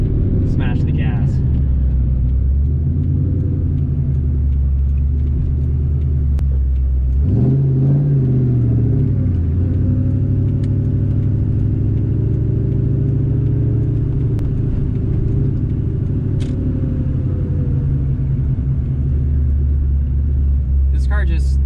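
An 800-horsepower Whipple-supercharged Ford SVT Cobra engine rumbles with low, sustained power, rising into a strong acceleration surge partway through, loud and close throughout.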